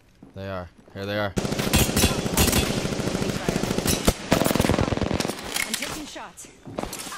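Rapid bursts of video game gunfire crackle loudly and almost continuously in a shooter match, with a player talking briefly at the start before the shots take over.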